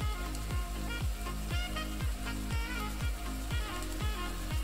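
Chicken korma sizzling in a pan as spices go in, a constant close frying hiss with a rhythmic series of regular low thumps or scrapes repeating roughly every half second, no talking.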